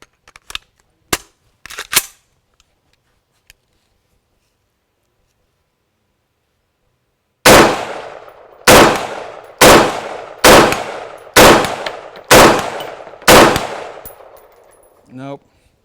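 An XCR rifle fires a partial magazine in seven sharp, loud shots with short uneven gaps, which suggests labored cycling from a malfunctioning bolt carrier. A few scattered clicks and handling knocks come before the shots. No one speaks.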